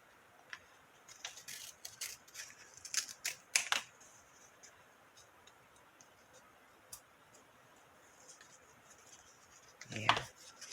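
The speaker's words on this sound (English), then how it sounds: "I think I'm going to cut this one in half" Scissors snipping through craft paper for a DIY winter home decor project, a run of quiet crisp cuts in quick clusters, then a pause and one louder final rustle and snip near the end.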